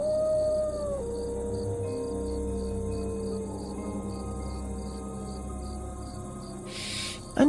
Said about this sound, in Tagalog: may marinig silang mga alulong ng aso sa hindi